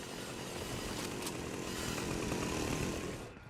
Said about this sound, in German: Das ist so ein Dash, wo du kannst machen mit der Kettensäge.